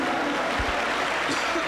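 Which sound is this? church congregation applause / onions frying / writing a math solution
church congregation applause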